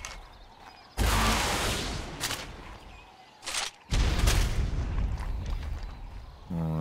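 Rocket explosions in the video game Ark, a salvo of heavy, booming blasts: a long roaring burst, a brief pop, then another sustained rumbling blast, loud and close.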